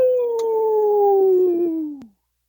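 A man imitates a hound dog howl with his voice, one long sustained wailing note that slowly drops in pitch and cuts off after about two seconds, loud and close, with no other talk.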